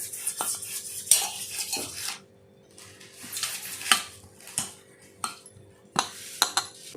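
Utensils clink and scrape against idli plates while oil is spread on them, producing irregular metallic taps and rubbing strokes in short bursts, close and moderately loud with quiet pauses between.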